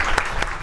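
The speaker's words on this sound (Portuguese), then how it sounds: "Uma salva de palmas, por gentileza." Brief burst of audience applause at an anti-smoking talk, dense clapping from a crowd lasting under a second.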